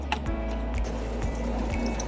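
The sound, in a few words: coolant water draining from Toyota RAV4 radiator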